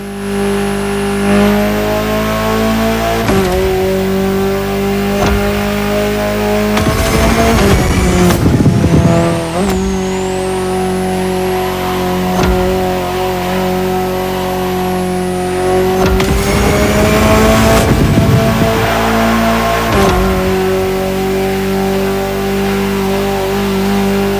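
An Alpine A110 engine in The Crew racing game, set in Hawaii, drones steadily and loudly, with sharp bursts of revving and gear shifts breaking in every few seconds.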